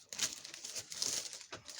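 Crinkly plastic postal bag being torn open by hand, a run of close, soft crackling and rustling bursts with brief pauses between them.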